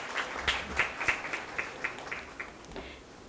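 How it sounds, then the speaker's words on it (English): Audience applause at a digital marketing panel session, a light, fairly faint round of scattered hand claps rising and thinning over a few seconds without speech. "Everybody, can we have a huge round of applause,"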